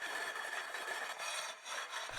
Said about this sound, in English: I start by scraping them with one of these silicon carbide sanding blocks.